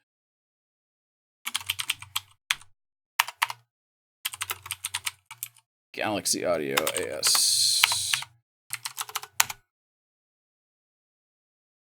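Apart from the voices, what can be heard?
typing on loud computer keyboard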